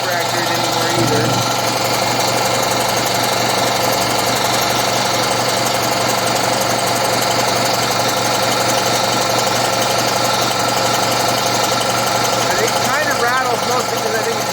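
A repaired air compressor runs continuously on its test run, a loud, steady mechanical drone with rapid knocking pulses and vibration through its legs and wheels, close by and unbroken throughout.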